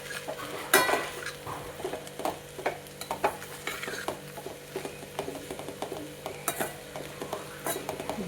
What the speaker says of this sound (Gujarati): પોવાને આપણે ફટાફટ આમ હલાવી લઈએ, મિક્સ કરી લઈએ ફટાફટ